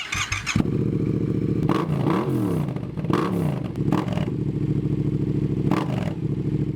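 Yamaha MT-07 motorcycle fitted with a Scorpion full exhaust system and carbon end cap, idling with a deep, rumbling burble broken by several sharp throttle blips that rev up and fall back, close and loud with no talk.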